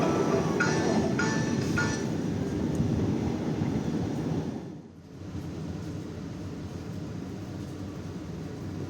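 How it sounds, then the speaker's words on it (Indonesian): Matarmaja economy train pulling into Pegadaian Baru station, a steady low rumble with some squealing early on, dipping briefly midway before the rolling noise continues. "Pukul 13:01 kereta api Mata Remaja tiba di stasiun Pegadaian Baru."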